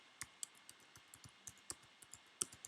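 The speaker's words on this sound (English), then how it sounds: "So we'll type in a password." Light, quick clicks of keys as a password is typed on a computer keyboard, quiet and close with an uneven tapping rhythm and no talk.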